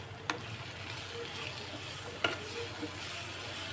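Pasta is stirred with Maggi masala in a frying pan: a soft, even sizzle and scraping, broken by two sharp utensil taps against the pan, close by and without talk.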